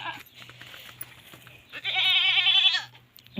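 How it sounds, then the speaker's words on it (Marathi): A goat gives one loud, wavering bleat close by after a few quieter bleats and rustles. "हे शेळ्या त्या बघा"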